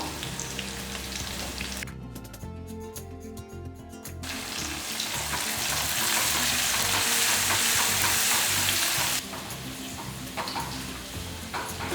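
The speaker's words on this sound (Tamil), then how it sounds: "வெங்காயமே பாருங்கள் இந்த அளவுக்கு பொரிஞ்சிருச்சுன்னு பாருங்கள்" Onions fry in a pan with turmeric and salt for a South Indian fish curry, giving off a steady, close sizzle. The sizzle swells at times, and stirring in the pan is heard along with it.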